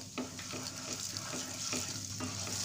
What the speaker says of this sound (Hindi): कुछ सेकंड के लिए मसालों को भून लेंगे